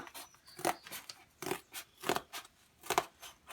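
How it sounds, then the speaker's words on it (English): Scissors snip through cardboard in a series of sharp, crisp crunching cuts at an uneven rhythm, close and fairly quiet, with no talking. "you can cut off, the chunks of cardboard as you go along"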